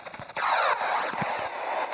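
Gunfire rings out in the video game GTA, a sharp shot followed by a dense rattling burst with reverberant tails, loud and close.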